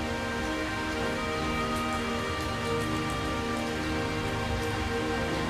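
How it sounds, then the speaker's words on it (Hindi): Steady rain falls continuously, a dense even hiss of drops on surfaces with no pauses and no voices. "यह बारिश तो रुकने का नाम ही नहीं ले रही है"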